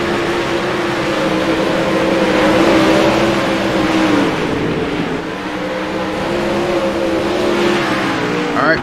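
Race car on a dirt-track oval at a racing event, its engine droning and revving steadily at close range, loud and sustained with slight pitch shifts as it drives.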